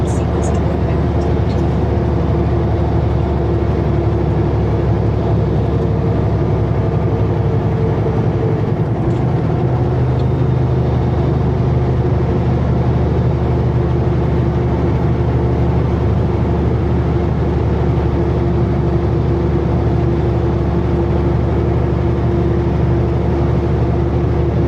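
A heavy transport truck on a test drive after repairs, its engine droning loud and steady from inside the cab, with a brief hiss and shift in tone partway through and a voice talking over it.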